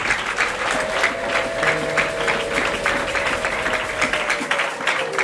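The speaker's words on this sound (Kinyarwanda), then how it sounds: "Imana yacu tuyongere amashyi." A church congregation claps together in sustained, even applause with a lively rhythmic texture, close and fairly loud, and a few voices mixed in.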